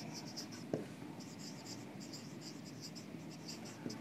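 Chalk scratches and taps on a board during an engineering lecture, a close, quiet run of rhythmic strokes with a couple of sharper knocks and no talking.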